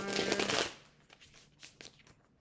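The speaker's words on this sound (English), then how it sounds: "so let me just shuffle this deck" A deck of tarot cards being shuffled up close, with a dense riffling burst at the start followed by several softer, scattered card taps and slides, quiet and alone with no talking.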